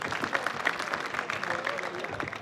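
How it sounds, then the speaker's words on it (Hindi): Scattered clapping from a small group during an informal talk about agricultural university admissions, fairly faint and uneven, with individual claps audible over a murmur of background noise. "ताली बजाओ।"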